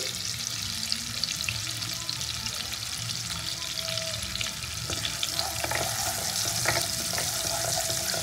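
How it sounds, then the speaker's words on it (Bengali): Chopped garlic and onion sizzle and crackle steadily in a hot pan, with occasional stirring scrapes near the end. "রসুন কুচিটা দিয়ে ভালো করে ভেজে নেবো।"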